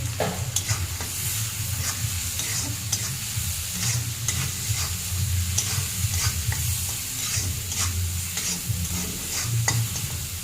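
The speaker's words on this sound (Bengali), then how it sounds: "তা চিংড়ি মাছটা ভাজা ভাজা করে ফেলি।" Prawns fry in a pan with salt and a heaped spoon of turmeric, giving a steady close sizzle broken by repeated stirring scrapes, with no one speaking.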